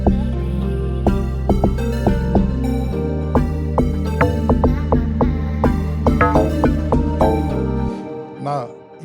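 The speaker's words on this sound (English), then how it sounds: "And I added a log drum" An amapiano log drum, produced in FL Studio, pounds out deep pitched bass hits in a syncopated rhythm under sustained bass and plucky melodic notes, loud and up front, fading out at the end.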